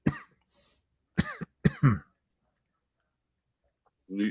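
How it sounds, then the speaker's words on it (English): A man in a podcast conversation coughs close to the microphone, a few sharp separate bursts with quiet gaps between them, and a brief voice follows at the end. "What are you coughing for"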